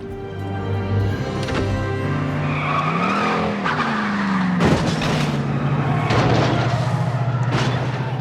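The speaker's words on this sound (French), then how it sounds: "Je vais démarrer cette voiture" A car engine starts and revs up, its pitch climbing as it drives off with tire squeal, loud and close, in a scene where someone learns to drive with a cougar.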